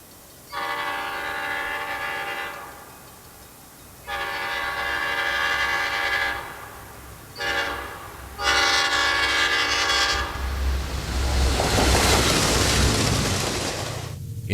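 Amtrak train number 326, the southbound Abe, passes Oakwood, sounding a series of loud, sustained horn blasts in long and short notes, followed by a heavy rumbling roar of the passing cars, close by.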